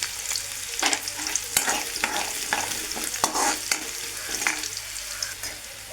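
Ginger pieces fry in a hot pan under a constant sizzle, with repeated scraping strokes from stirring a spatula against the pan at close range and no voices.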